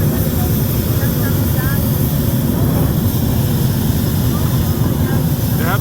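Hot air balloon burners roar during liftoff, a loud continuous broadband blast close overhead that persists throughout.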